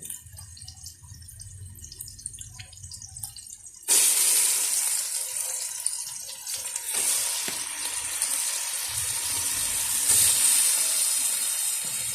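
Pork leg dropped into a pan of sautéed onion, garlic and tomato, bursting into a loud steady sizzle after a quieter stretch of faint crackling.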